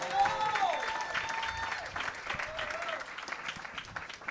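Audience applause fills a comedy show venue, a dense steady clapping with scattered cheers that holds throughout, while a few voices call out over it.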